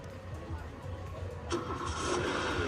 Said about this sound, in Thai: จะเป็นเสียงเครื่องยนต์นี้นะคะ